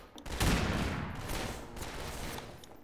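A slow-firing rifle in Garry's Mod lets out a single loud, close shot that rings out and decays, with a few faint clicks following.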